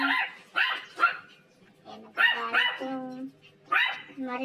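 A dog barks and yips in short bursts on a veranda, several separate calls with brief gaps, loud and close.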